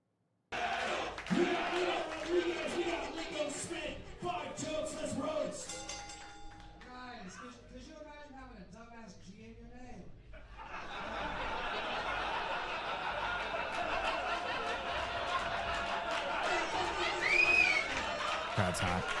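A hot live crowd at a roast battle roars with cheering and laughter, loud and sustained, swelling near the end, with a quieter stretch of music-like tones in the middle.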